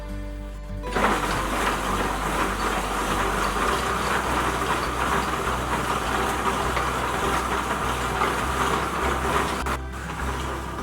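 A hand-cranked homemade ice cream maker packed with ice and rock salt churns steadily, giving a continuous grinding, rumbling drone with ice crunching close by after a brief start, with no talk.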